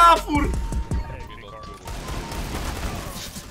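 Gunfire from an esports shooter video game crackles in a short burst at the start, then fainter shots and impacts continue under players' chatter.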